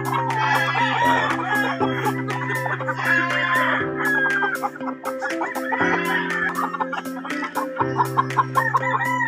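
Several gamefowl chickens in crates cluck and crow in a busy cluster, with a steady low mechanical hum droning underneath the whole time.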